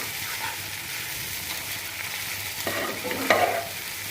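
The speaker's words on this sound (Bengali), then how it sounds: "এখন বাগার দেওয়ার জন্য এটা ছেড়ে দিয়েছি।" Garlic frying in hot oil to temper cooked tripe, a soft continuous sizzle with a few stirring scrapes and a brief louder crackle near the end, no talk.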